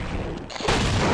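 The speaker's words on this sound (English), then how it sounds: "Grenade. Grenade out." A grenade goes off in a first-person shooter game with alien head crabs about, a sudden loud blast that cuts in and holds as a dense, roaring burst of noise.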